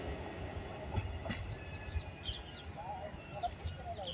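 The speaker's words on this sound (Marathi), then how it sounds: "आणि गाडी आता विश्रामबाग रेल्वे स्टेशनवरून डिपार्चर झालेली आहे." A train pulls away from Vishrambag railway station with a steady rolling rumble and scattered wheel clicks, while birds chirp faintly nearby.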